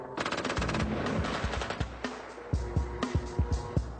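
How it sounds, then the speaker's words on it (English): Machine gun firing from a weaponized robot in an urban combat setting, heard as a sustained rapid burst that breaks into separate loud, sharp shots, close and without talk. "it can be armed with everything from a machine gun to a rocket launcher"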